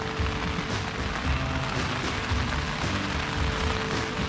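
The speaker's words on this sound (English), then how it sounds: "Lots of rain. Rain on top of rain. On top of rain." Steady rain patters on a tent overhead in Alaska, a continuous dense drumming close by with no voices.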